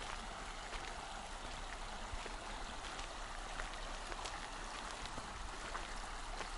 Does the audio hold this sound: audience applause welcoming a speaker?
no